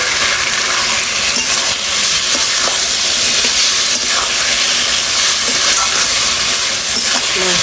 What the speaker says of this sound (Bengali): হলুদ মাখানো মাংসটা দিয়ে দিচ্ছি